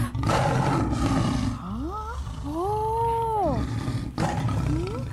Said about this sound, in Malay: Itu adalah bunyi gajah.